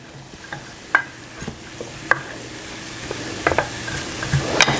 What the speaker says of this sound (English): I'm going to fry this for a couple of minutes.